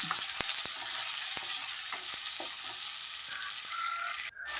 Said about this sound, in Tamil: உப்பு சேர்த்து உப்பு சேர்த்து வதக்கி விடுறேன்